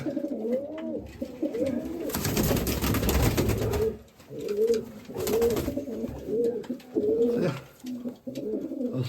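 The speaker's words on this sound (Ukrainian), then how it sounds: "Це голубок" Mykolaiv breed pigeons coo repeatedly up close in a dovecote in Kamianske, the soft rolling calls interrupted by bursts of wing flapping and rustling.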